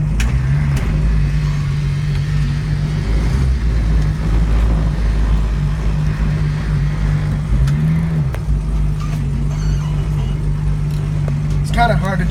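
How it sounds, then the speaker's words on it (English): A 1967 Ford Mustang classic car idles and backs up in reverse, a loud, steady low engine drone with a brief rise in pitch as it moves, while someone talks over it. "Let me put it in reverse real quick."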